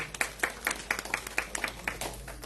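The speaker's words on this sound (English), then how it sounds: "One round of applause for all of you" Rhythmic applause from a small audience at a Ramayan satsang in Margate, Florida, with steady, evenly spaced claps at moderate distance over a faint background hum.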